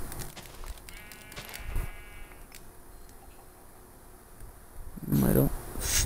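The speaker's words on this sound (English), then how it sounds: "See another sheep." A sheep in a Minecraft-style video game bleats twice, a wavering bleat early and a louder one near the end, with quiet game ambience in between.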